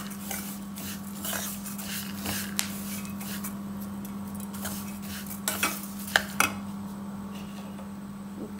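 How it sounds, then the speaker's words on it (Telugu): Nuts sizzle faintly while being stirred with salt and chili powder in a pan over low heat, with intermittent scraping and clinks of a spoon against the pan over a steady background hum. "ఉప్పు కారం రెండు వేసేస్తున్నా సిమ్లో పెట్టుకునే వేయించుకోండి"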